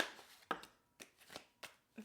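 Tarot cards being shuffled by hand in short riffled bursts, about five quick papery flutters spaced roughly half a second apart, close and fairly quiet.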